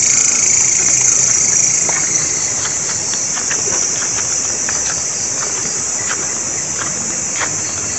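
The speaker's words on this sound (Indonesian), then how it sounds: "Suara jangkrik, suara kodok ada." A steady, dense chorus of crickets fills the night air, continuous and fairly loud, with occasional faint frog croaks and soft patters mixed in.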